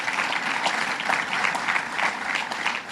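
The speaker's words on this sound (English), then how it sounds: "Let's give him a round of applause" A conference audience at a sustainability event applauds with a dense, continuous crowd clapping that stays steady throughout.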